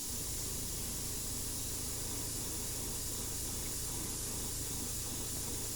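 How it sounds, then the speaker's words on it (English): Airbrush blowing only clean air over a freshly painted Dollar Tree paint figure, a constant, even hiss of compressed air that holds steady and fairly close for the whole stretch, with no talking. "And right now we're just blowing clean air on him."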